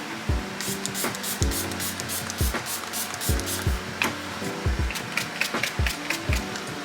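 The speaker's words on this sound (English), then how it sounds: "So basically just gonna spray." Several short hissing bursts of rose water facial mist spray, close by, mixed with light clicks and handling noises; no talking.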